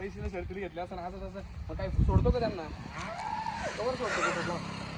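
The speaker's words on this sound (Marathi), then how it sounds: "तिकडं शेजारी श्री सामाभाऊचं वासरू मधी आहे" A calf moos several times close by on a village farm, drawn-out calls rising and falling while people talk nearby.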